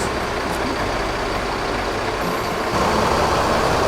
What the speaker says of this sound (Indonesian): ini bis Bintang Kejora yang sekarang sedang standby di Terminal Kalideres